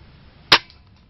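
A single loud, close crack from a D-Cobra spring airsoft KAC PDW Bison, sharp at the onset and fading quickly against low background hiss.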